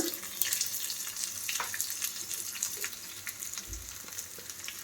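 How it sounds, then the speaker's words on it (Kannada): Garlic frying in oil in a pan, with onion and curry leaves about to be added for a massoppu tempering; a steady close sizzle runs throughout with light stirring and a brief low thump. "ಬೆಳ್ಳುಳ್ಳಿ ಸ್ವಲ್ಪ ಫ್ರೈ ಆದಮೇಲೆ ಈರುಳ್ಳಿ ಸೇರಿಸ್ಕೊಳ್ಳೋಣ"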